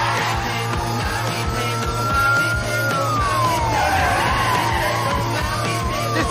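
A police car siren wails in rising and falling sweeps during a car chase, loud and continuous over a dense, rhythmic rumble of engines and action.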